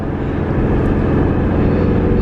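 A deep, loud V8 exhaust from a Shelby GT350R Mustang drones continuously, a thick rumbling roar that stays steady and close throughout with no voices.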